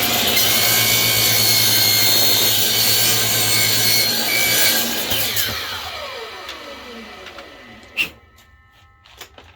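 A miter saw cuts through wood with a loud, sustained whine and rasp that winds down as the blade spins to a stop, followed by a few sharp knocks.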